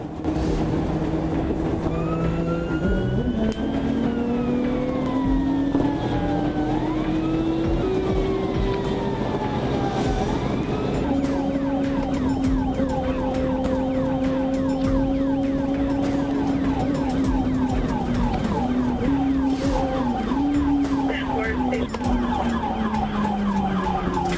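A wailing police siren rises and falls continuously over steady loud road rumble during a high-speed freeway chase of a motorcycle rider, with warbling tones sweeping up and down for the whole stretch.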